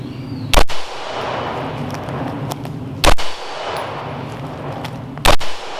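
A 5.56 rifle fitted with an OSS Bannar Alpha 1 muzzle brake fires three sharp, loud shots, spaced about two and a half seconds apart, over steady outdoor background noise.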